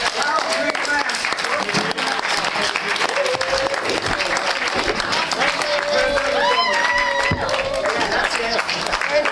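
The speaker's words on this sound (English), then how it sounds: "Hey, everybody stand up, give them a cheer for Steve." Dense applause and cheering from a standing audience at a Lions Club District 19G meeting, steady clapping throughout with shouts and whoops rising over it.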